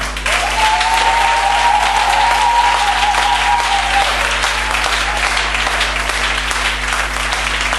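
A church congregation applauds loudly and steadily, with a sustained tone ringing briefly through the dense clapping and a low hum underneath.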